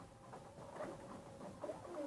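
Soft, low cooing from a breeding pigeon, a few muffled throaty coos rising faintly over a quiet, hissy background with no talk.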